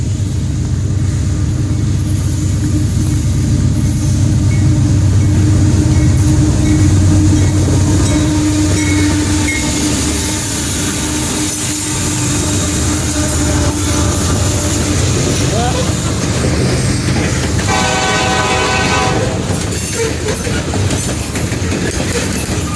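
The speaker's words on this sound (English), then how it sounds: "see a nice long flooded coal train, and then Amtrak after the coal train" A long loaded coal train rumbles past close by at Thurmond, West Virginia, loud and continuous with clattering wheels, and a horn blast sounds near the end.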